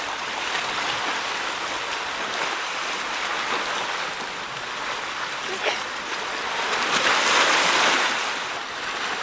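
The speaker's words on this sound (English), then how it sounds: "This is Dragon Mouth Spring." Hot spring water at Dragon Mouth Spring in Yellowstone, about 185 degrees, churns and sloshes in a continuous broadband roar that swells louder near the end, with some wind buffeting on the microphone.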